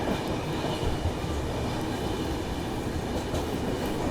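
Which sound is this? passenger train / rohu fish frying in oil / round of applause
passenger train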